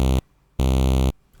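A square wave oscillator on a Voltage Modular synthesizer sounds as a loud, buzzy, harmonically rich low tone in two bursts, a short one and a longer one, with a brief quiet gap between them.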